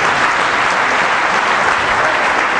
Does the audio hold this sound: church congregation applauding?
yes